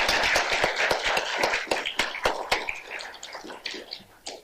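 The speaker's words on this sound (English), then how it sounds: "give a round of applause to each of these speakers" A round of applause from a summit audience, with sparse, distinct claps close by that start fairly lively and thin out toward the end.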